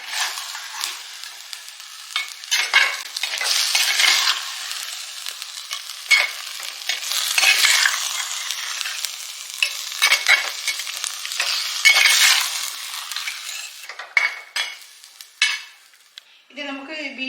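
Beef dry fry, Kottayam style, being stirred in a hot pan: a spoon scrapes and clatters against metal in uneven strokes over a steady sizzle, close and fairly loud, with no talk.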